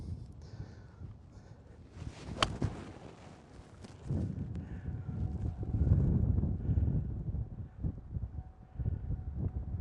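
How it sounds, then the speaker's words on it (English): Wind buffeting a microphone outdoors on a golf course, in gusty low rumbling swells that build and fade, with a few faint knocks and rustles and no voices. "here's that wind. I can feel that wind hitting me right now"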